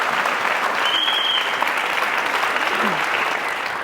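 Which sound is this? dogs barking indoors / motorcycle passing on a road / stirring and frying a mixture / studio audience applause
studio audience applause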